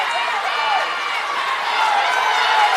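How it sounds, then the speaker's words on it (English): At a girls' state high school swimming meet, a cheering section of spectators makes a steady, dense roar of crowd noise beneath continuous commentary from a voice. "I hear the Dubuque area cheering section behind me"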